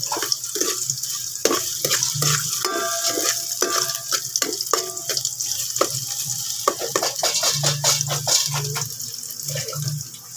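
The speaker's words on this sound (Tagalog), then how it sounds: "We gisa-gisa our ginger for our tinola. Let's make it golden brown." Ginger sautéing in a pan for chicken tinola, a steady close sizzle with repeated scraping and stirring strokes that runs without a break and without any voices.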